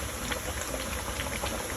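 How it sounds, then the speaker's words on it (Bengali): A continuous rushing, bubbling wash of hot water being poured into a cooking pot of Bangladeshi curry, loud and close throughout. "গরম পানি দিয়ে দেওয়া হচ্ছে"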